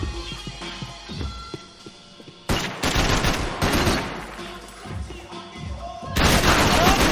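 Heavy gunfire from the video game Max Payne 3, with loud overlapping bursts, booming shots and crashes that come in waves, strongest at the start and the end.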